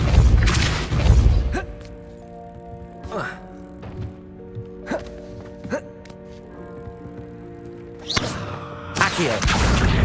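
Depulso spell effects from Hogwarts Legacy: heavy whooshing bursts and thuds open and close the stretch, with lighter swishes and impacts in between over sustained background music.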